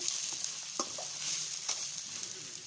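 Fried egg is stirred into masala in a frying pan while making chicken fried rice, with a soft continuous sizzle and a few light scraping strokes of a spoon, quiet and close, no talking.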